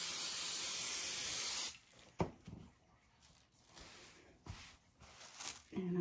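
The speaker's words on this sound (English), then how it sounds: "And I'm going to spray this down." A strong hiss of spray for nearly two seconds, then quieter handling noises, a few soft clicks and rustles.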